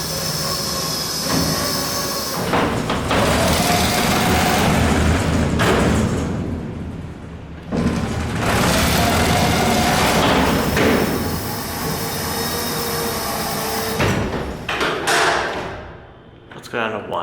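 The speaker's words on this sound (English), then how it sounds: "we need to open the doors" Heavy doors of a vintage US hydraulic freight elevator at Steward Observatory being opened, loud rumbling and scraping with metallic clanks and squeals, in long sustained pushes broken by short pauses and bangs.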